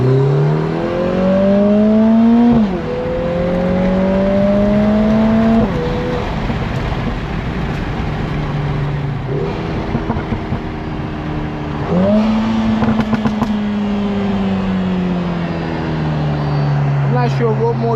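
A Lotus Emira I4 AMG sports car accelerates hard, engine climbing through several gears with rising revs and shift drops as the exhaust opens up, loud and close from inside, with a person talking over it.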